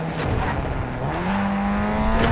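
An engine hums and rises steadily in pitch as a sports utility vehicle accelerates in Call of Duty MWII DMZ, a continuous motor drone with no talking.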